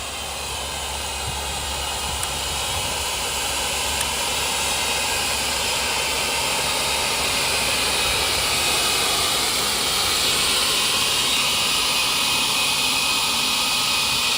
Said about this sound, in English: this is the blower. I'm gonna have to kind of be louder here.